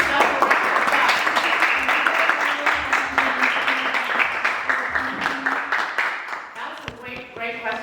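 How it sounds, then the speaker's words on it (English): Attendees at an evening park board candidate forum applaud in a sustained burst of clapping that gradually thins, with voices rising near the end. "big round of applause for you guys too"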